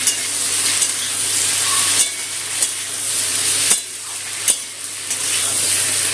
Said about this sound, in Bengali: টমেটোটাও আলুর সাথে নেড়ে ভেজে নেব।